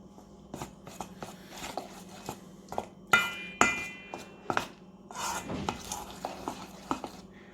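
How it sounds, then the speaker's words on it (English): Pizza dough mixture being stirred by hand in a bowl, a series of scraping and tapping strokes in an uneven rhythm, close and fairly quiet, with a couple of sharper knocks midway and no voices. "And then start stir it. Stir it."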